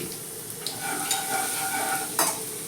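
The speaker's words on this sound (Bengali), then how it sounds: "ফোড়নটাকে আমি একটুখানি ফ্রাই করে নেব" Whole spices and ground white cumin tempering in hot oil for a vegetarian banana-flower dish sizzle steadily up close, with a few soft stirring scrapes and one sharper hiss near the end; no talking.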